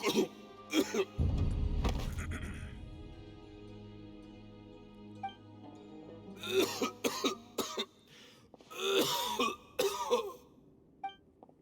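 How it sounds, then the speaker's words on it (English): A man coughs in heavy bursts several times, with harsh throat-clearing hacks, set against low game music and ambient hum, from a character in the video game Genshin Impact. "Why is he coughing so much?"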